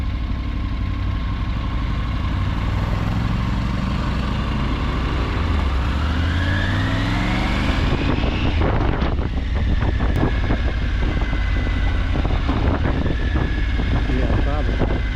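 A motorcycle cruising on the road to Kilgore Fort near Nickelsville, Virginia, with strong wind rush over the microphone and a steady engine drone that rises and shifts pitch. A rider talks briefly over it.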